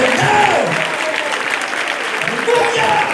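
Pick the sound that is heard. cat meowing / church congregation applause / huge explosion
church congregation applause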